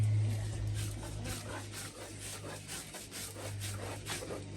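Shea nuts are ground by hand to make shea butter, giving a continuous rough rubbing, grating sound with repeated scraping strokes over a steady low hum, close and moderately loud.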